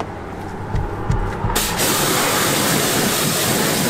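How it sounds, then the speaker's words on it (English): Ceramic wax sprayed onto a BMW 1 Series wheel, a loud close hiss that starts after a few soft puffs and then continues steadily to the end. "I might as well just spray some of this ceramic wax on it"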